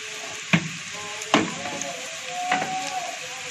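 Onion and minced meat sizzle in a pan on a steady hiss, broken by three sharp, near stirring clacks spaced across the moment, with no talk.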